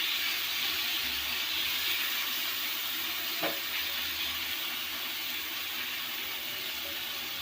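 Onion, tomato and prawns fry on a tawa for a hotel-style prawn roast, giving a steady, even sizzle and hiss throughout with one faint brief clink partway through.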